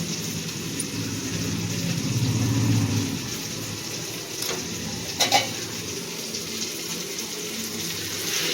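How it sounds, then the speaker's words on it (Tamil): Drumstick pieces stirred into softened onion and tomato frying in a pan for mango drumstick sambar: a steady low sizzle with a few clattering stir scrapes near the end, close by, no voices. "இப்போ முருங்கைக்காயை சேர்த்து நல்லா கலந்து விடலாம்."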